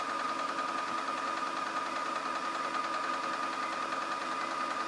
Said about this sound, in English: Wind a nice full bobbin.